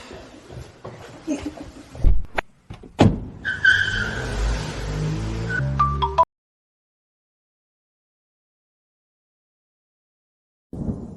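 A car revs and pulls away with a brief tire skid, loud and close after some rough scuffling and voices, then cuts off abruptly into silence.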